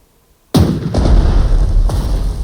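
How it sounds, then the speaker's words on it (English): A ship hit by gunfire explodes in the naval strategy game Strategic Mind, a sudden loud blast after near silence that rolls into a heavy rumbling roar with further thumps, no talk. "Yep, we hear the explosion."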